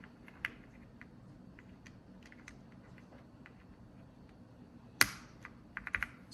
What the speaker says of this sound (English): This is a non-lubed silver speed switch. This is a lubed one.